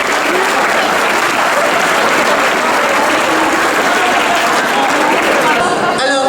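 A large crowd at a Besançon gathering of arts intermittents applauds regional politicians with dense, loud, continuous clapping mixed with cheering and murmur throughout.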